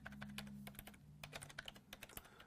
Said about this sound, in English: I'm just typing ping and then some arbitrary website